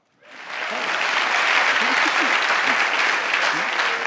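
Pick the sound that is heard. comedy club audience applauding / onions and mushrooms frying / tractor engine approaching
comedy club audience applauding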